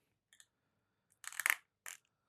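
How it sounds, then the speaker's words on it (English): The ratchet on an Olight PL X pistol light mount, being undone from a Glock 34, gives a few quick, close clicks in short separate bursts against near silence. "You can hear the ratchet there, a bit coming undone there."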